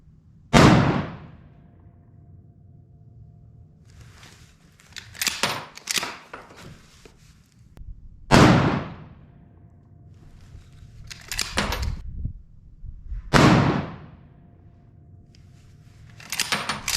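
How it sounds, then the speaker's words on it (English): A Remington 7600 pump-action rifle fires Federal 150 grain pointed soft point rounds, three sharp loud reports spaced several seconds apart, with the clack of the pump action cycling and handling noise between shots. "I'm gonna shoot a 4-shot group just to make sure that everything is where he needs it."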